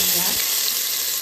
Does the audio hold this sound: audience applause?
no